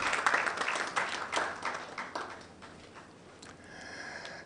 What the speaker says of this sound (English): Please give Airtel Tigo another round of applause.